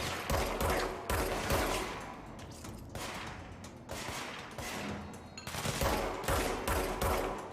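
Gunfire in the video game Control, repeated rapid bursts of shots and thudding impacts in quick clusters, loud and close, continuing throughout.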